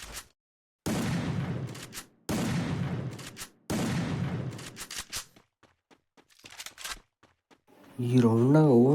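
Bursts of automatic gunfire from the shooting game Free Fire ring out loudly in three long volleys. Scattered single shots follow, and a voice speaks at the end.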